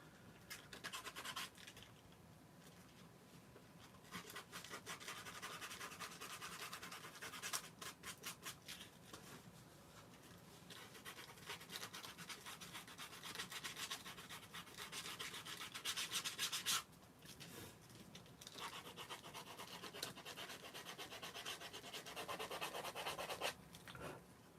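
Close, continuous scratchy rubbing as a leather keychain is sanded down, with brief pauses between bursts of strokes and no voices.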